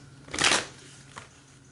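A quick riffle-shuffle of tarot cards during a reading: one loud, close fluttering burst lasting about a quarter second, then a faint second card flick, no talking.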